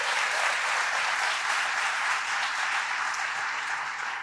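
A seated audience at the Ordre Victori recognition evening claps together in a loud, sustained round of applause that fills the hall, with no speech over it.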